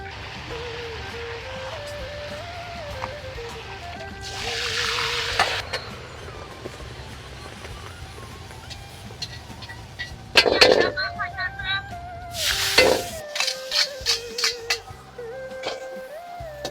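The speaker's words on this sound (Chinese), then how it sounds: "第4道菜爆炒腰花。" Pork kidney stir-fried hard in a wok at a busy rural market stall: steady close sizzle and frying hiss with bursts of spatula scraping and clanging, a few sharp metallic knocks near the end, and voices and music in the background.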